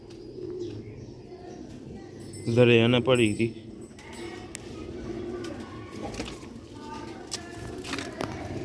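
An old Sialkoti rooftop pigeon coos close by in a short, loud, throaty burst, with quieter background noise and someone talking before and after.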